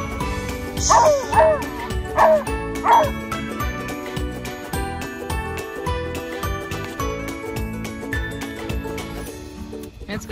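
A dog confronting a cow gives three or four sharp barks close by in the first few seconds, then quieter jingling and rustling movement continue.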